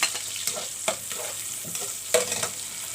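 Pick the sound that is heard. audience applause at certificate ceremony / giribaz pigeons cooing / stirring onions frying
stirring onions frying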